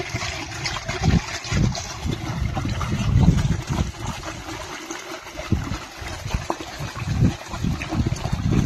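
Water flowing and trickling in a farm field, a continuous close splashing stream with uneven surges, no voices over it.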